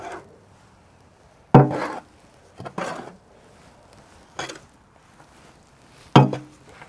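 Compost being mixed by hand with potting mix ingredients: several separate rough scraping, scooping bursts with quiet gaps between them, close by and without speech.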